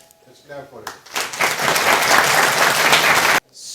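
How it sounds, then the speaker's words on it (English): An audience bursts into applause after a presentation: a short spoken lead-in, then a loud, dense wash of clapping that swells and holds for about two seconds before cutting off abruptly. "Let's clap for it"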